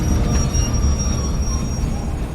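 A train runs on rails with a loud, steady rumble and high metallic wheel squeal, as an effect in an audio drama.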